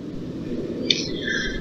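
Bird squawking in the video game Coma, one sharp harsh call rising over a low ambient rumble, fairly close and brief.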